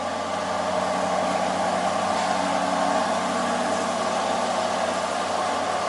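An Aston Martin DBX engine runs at a steady idle, a continuous, even mid-to-low hum close by with no talking.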